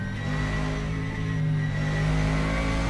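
Mercedes-AMG GT3 race car engine with an aftermarket sound pack in a racing sim at Rouen-les-Essarts, a loud close howling drone with steady harmonic tone holding and climbing slightly, alone without talk.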